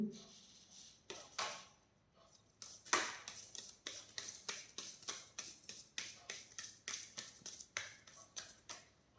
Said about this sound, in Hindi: this is my one and last shuffle